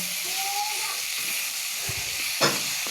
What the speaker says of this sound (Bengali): পানি শুকনো করবো, এটাকে একটু ভাজা ভাজা করবো।